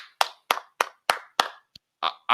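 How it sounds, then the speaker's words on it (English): Hand claps ring out alone and close, about seven sharp, evenly spaced claps in a steady rhythm, with a brief faint tap partway through. "I can't do nothing but clap for you,"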